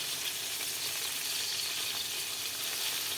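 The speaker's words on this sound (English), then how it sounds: "Flip all the pieces of squash. Fry them for 5 minutes under lid." Squash pieces fry in olive oil in a pan, making a dense, even sizzle that holds steady and close for the whole stretch, with no talk over it.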